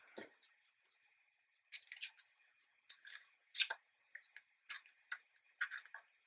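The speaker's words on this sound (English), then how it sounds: "Tear all four sides." Paper is torn along all four sides in short, crisp rips and crinkles, separated by brief pauses, fairly faint and close.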